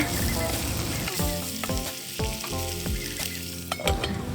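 Shrimp stir-fried with garlic, coriander root and pepper in an electric pan, giving a steady loud sizzle with repeated scraping and stirring strokes and spatula clinks throughout, no voices.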